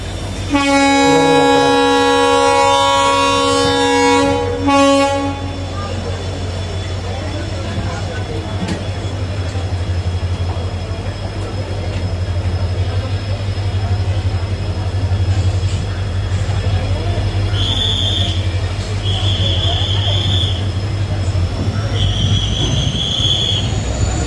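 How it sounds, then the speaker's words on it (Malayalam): An Indian railway train pulls into a station, its horn sounding loud and long at the start, then a steady heavy rumble of wagons rolling past with repeated high wheel squeals near the end. "ഈ വണ്ടി വന്ന് നമ്മുടെ വണ്ടിക്ക് സിഗ്നൽ കിട്ടി"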